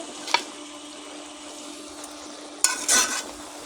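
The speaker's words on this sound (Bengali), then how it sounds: "তরকারি আবার ভালো করে নেড়ে দেবো।" Spinach curry being stirred in a pan, a quiet simmer under a few brief scraping strokes of the spoon, one near the start and a longer burst toward the end, with no talking.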